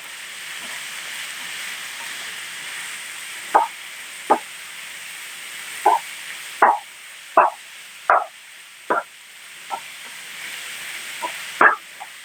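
Grated beetroot is stirred in a pan with coconut oil for thoran, giving a soft, steady sizzle punctuated by about a dozen sharp scrapes and taps of the spoon against the pan at an irregular rhythm.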